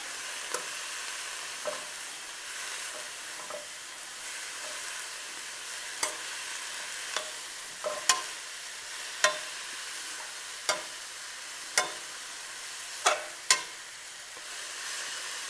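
Vegetables for a gluten-free low-carb crack slaw cook down in a pan with Better Than Bouillon, giving a quiet, steady sizzle and simmer broken by sharp utensil clicks every second or so.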